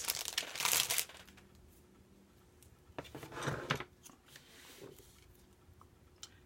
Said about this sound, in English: I'm going to add some more score tape. I'm going to be using 1/4 inch score tape for all 4 flaps.